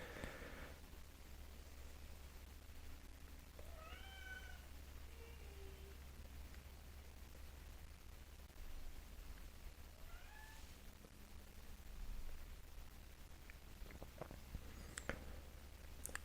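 A pet cat meows several times indoors after entering through a cat flap from its outdoor catio, the rising tonal calls soft against a low steady hum, with a faint patter near the end.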